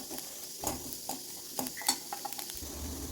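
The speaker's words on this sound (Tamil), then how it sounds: "இப்போ நம்மளோட தேங்காய் வந்து நல்லா வறுபட்டுருச்சு" Coconut roasting in a pan is stirred with a spatula, giving soft scrapes and clinks over a quiet sizzle.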